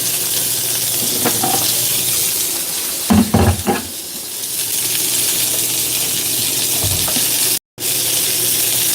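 Food sears in a pan over medium heat with a loud, continuous hiss. A few clattering knocks from a utensil or pan briefly break through midway, and the sizzle drops out for a moment near the end before resuming.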